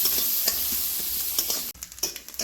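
Grated coconut fries in hot ghee in a village kitchen, a loud, dense sizzling hiss close by, with scraping stirs; midway the hiss drops back and gives way to a few distinct clattering scrapes.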